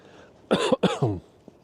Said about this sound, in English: There I am coughing in the microphone right in your ear.